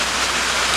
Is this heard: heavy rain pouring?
yes